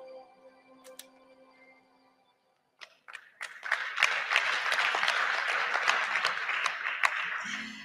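Audience clapping at a leadership summit breaks out after a brief pause and quickly swells into steady, dense applause that holds loud for several seconds.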